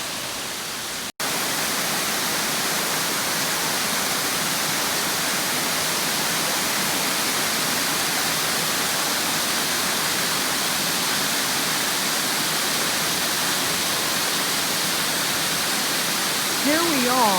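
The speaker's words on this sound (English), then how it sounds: "You'll hear the loud sound of that rushing water called the tumbling waters" Amicalola Falls waterfall, the tumbling waters rushing over rocks, makes a loud, dense, unbroken roar that holds steady throughout after a brief quieter opening, with a voice faintly heard at the very end.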